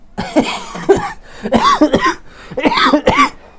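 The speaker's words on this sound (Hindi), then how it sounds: "सॉरी, खांसी बहुत आ रही है आज।" A close, loud fit of repeated coughing, several harsh bursts in quick succession with brief throat-clearing between.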